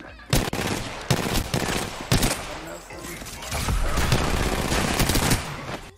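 Rapid bursts of gunfire in the battle game Apex Legends, several sharp loud volleys with a steadier stretch of shooting near the end, some voices mixed in.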